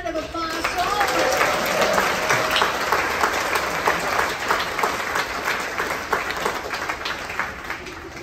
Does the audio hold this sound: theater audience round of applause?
yes